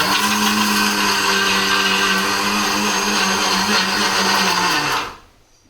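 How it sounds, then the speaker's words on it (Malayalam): A kitchen mixer grinder whirs steadily as it grinds ingredients for a home-cooked dish, loud and close, then winds down and stops near the end. "യാമിയും ധനുവും കൂടെ അതൊന്ന് പൊടിച്ചു"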